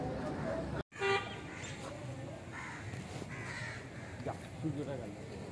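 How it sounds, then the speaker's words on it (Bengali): Crows caw repeatedly at dusk at a Ganga riverside ghat, mixed with a distant vehicle horn and faint boat and town noise, with people talking nearby. "এই যে সব পাখিগুলো ঘরে ফিরছে আস্তে আস্তে।"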